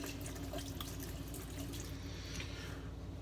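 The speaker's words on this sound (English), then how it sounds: "Wet the razor first." A razor with Shark Platinum blades is rinsed under a running cold tap, giving a steady gushing stream with splashes. It is close and continuous, and no one talks.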